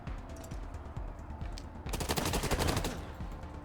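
Gunshots from the turn-based game Wasteland 3, a rapid rattling burst of shots rising in the middle over a busy background, moderately loud with no voice over it.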